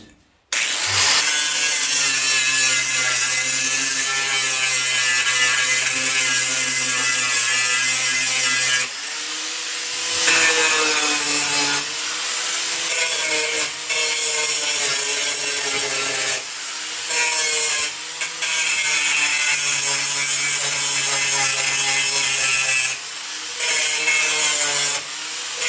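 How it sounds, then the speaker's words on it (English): A mini grinder cleans up metal on a patched old vehicle called the Blue Beast, a loud, close, continuous whine with several short pauses and changes in pitch as it bites into the metal. "Clean up back here a little more with my mini grinder."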